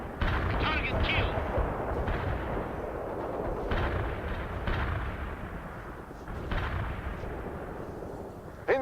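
Artillery barrages and gunfire from the real-time strategy game World in Conflict, a continuous loud rumble of blasts and shots with sharper impacts scattered through it, under game voice lines.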